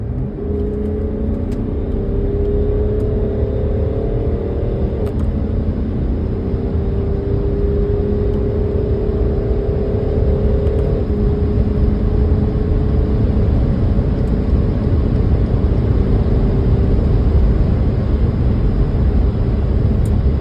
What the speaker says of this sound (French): là c'est un X6 40D, c'est diesel, certes, c'est pas ce qui avance le mieux